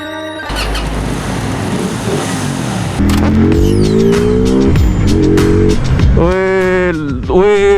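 A Morbidelli C252V V-twin motorcycle on a test ride in Nepal: steady engine drone, then loud revving climbs through several gear changes, each rising pitch sweep cut short by a shift.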